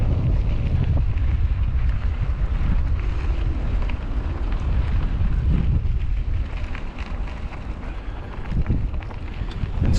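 Strong gusting wind buffets the microphone outdoors beside railway tracks near a rail yard, a loud continuous low rumble and roar that eases slightly partway through before rising again.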